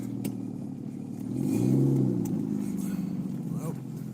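A BMW car engine pulling away after the handbrake is released, a low engine hum that swells and fades, with people talking inside the car.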